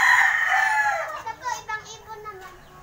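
A rooster crows loudly up close, then several short clucks and chicken calls follow in a choppy series.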